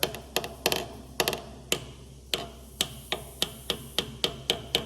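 Repeated hammer taps driving a plug into an engine head using two hammers, a dozen or so sharp metallic clicks in an uneven rhythm, close and fairly crisp with no talking.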